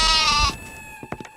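A goat gives one loud, close, wavering bleat lasting about half a second, then fainter scuffling noises follow.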